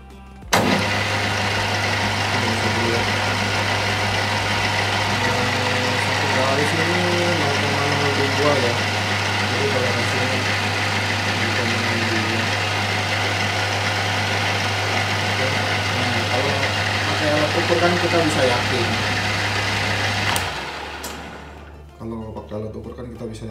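A lathe runs steadily while turning a gun barrel, its motor giving a constant loud hum with a strong low drone throughout before spinning down and stopping near the end; no talk over it.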